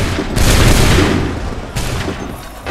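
Musket volley gunfire from Assassin's Creed 3: a loud, dense fusillade of many shots fired together, rolling into a long booming decay, then a second, smaller burst of shots.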